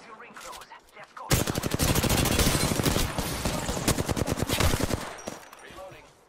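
Sustained automatic gunfire from Apex Legends, a loud burst of rapid shots running for several seconds after a quiet start, with game sounds and a faint voice around it.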